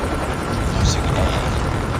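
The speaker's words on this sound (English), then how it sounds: "Be advised, hostile stealth chopper inbound" Helicopter rotor noise from a hostile stealth chopper in Call of Duty, a steady broadband whir, mixed with other game sounds and a faint voice.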